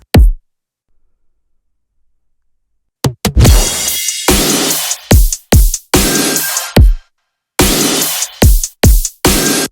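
An electronic remix drum loop with a simple kick and layered snares hits loud and punchy, starting with a single thump, falling silent, then launching into a tight rhythmic pattern of kicks, snares and bright noisy hits.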